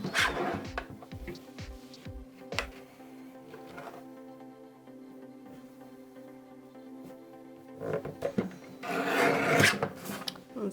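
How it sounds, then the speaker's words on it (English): Paper album pages are trimmed by an eighth of an inch, heard as quiet scraping and rasping cuts in short bursts with soft handling noises, fairly close and at low volume. "So we're going to shave 1/8 of an inch off of both of these."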